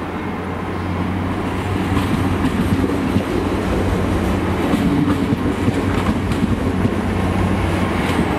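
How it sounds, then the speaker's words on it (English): A passenger train heading from Cardiff to Swansea rumbles steadily nearby at Cardiff Central station, with a continuous rolling roar and faint rail clatter, holding at a constant level throughout with no voices. "We have the Poppy train again, heading for Swansea from Cardiff."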